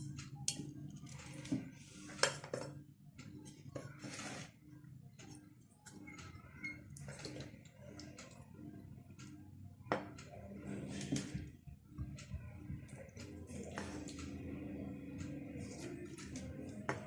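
Chicken pieces being arranged in a baking tray, a quiet, sporadic series of small clinks, taps and soft handling noises, close up, with a faint voice now and then.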